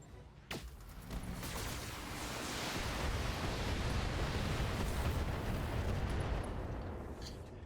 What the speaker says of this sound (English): Here's the hoping the Gauss rifle can hit.